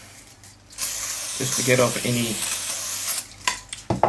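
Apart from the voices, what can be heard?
spray cleaner being sprayed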